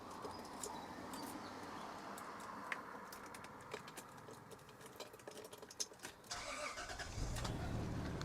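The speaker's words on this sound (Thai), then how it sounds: "เดี๋ยวเรามาฟังเสียงของเครื่องยนต์กันนะครับ" A Mercedes-Benz E220 engine cranks and turns over near the end, starting on the first try and rising into a running rumble after scattered clicks and faint background noise.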